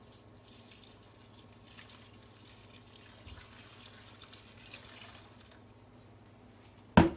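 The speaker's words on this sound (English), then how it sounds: "then you want to put water on them." Water runs steadily from a tap into a pot of dried green beans for several seconds, a soft continuous rush ending in a sharp clunk.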